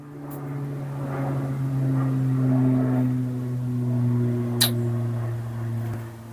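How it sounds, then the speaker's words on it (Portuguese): An airplane drones overhead as a steady, moderately loud hum that swells and eases a little across several seconds, with a faint brief click near the end and no voices. "Tá passando um avião aqui agora"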